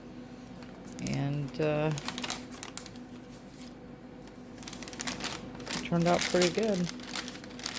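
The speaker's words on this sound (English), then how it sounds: "As you can hear, the paper is crinkling" Homemade coffee- and tea-stained paper with garden plants, dried in a dehydrator, crinkles and crackles in quick, scratchy bursts, close up, with a person talking over parts of it.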